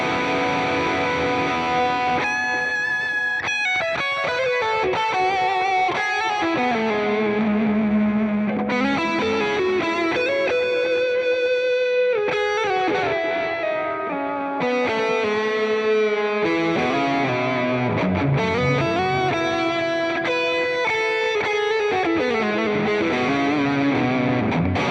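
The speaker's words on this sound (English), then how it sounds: "There we chuck a little bit more distortion at that. We'll get kind of what we would expect from," Fender Standard electric guitar played with a distorted lead tone, sustained singing notes and bends over a thick, saturated sound, loud and continuous with no talking.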